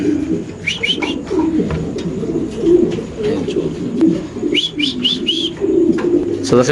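Spanish pigeons coo repeatedly in low, throaty murmurs, close and prominent, with sharper bird chirps breaking in now and then and a voice talking underneath.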